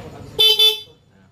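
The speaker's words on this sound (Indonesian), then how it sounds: "Tes klakson orinya dulu." Original horn of a Honda Forza 250 scooter sounding in two short, close, loud beeps of a thin, high electric tone, heard after a moment of low background noise.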